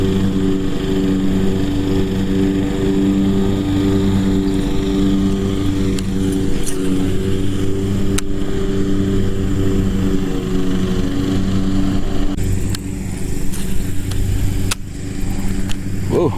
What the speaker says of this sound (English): Sorry about all the lawnmower noise.